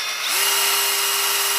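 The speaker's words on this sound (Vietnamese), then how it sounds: "Rồi khoan chỗ khoan hai cấp độ nhá, khoan thường và khoan có bố nhá." A corded electric drill with a one-piece motor and two modes, plain drilling and hammer drilling, spins up from a brief quieter start to a steady, close, high whine that holds to the end, with no talk over it.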